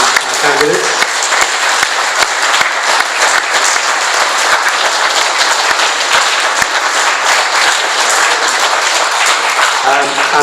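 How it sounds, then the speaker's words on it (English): A crowd at a political party leadership hustings gives a sustained, loud round of applause for the candidates, dense clapping running steadily for about ten seconds with faint voices at the start and end. "Can I ask you all to give one final round of applause to our candidates?"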